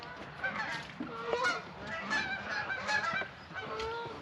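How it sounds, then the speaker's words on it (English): A flock of geese honks repeatedly as it flies past a farm, bursts of honking overlapping at a moderate distance with no talk over them. "Got some geese flying by."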